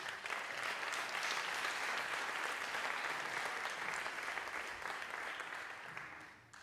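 Audience at the interDocsBarcelona World Online Orchestra session applauds the musicians, a continuous wash of many hands clapping, soft and somewhat distant, tapering off at the close.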